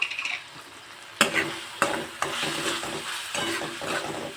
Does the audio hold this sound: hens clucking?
no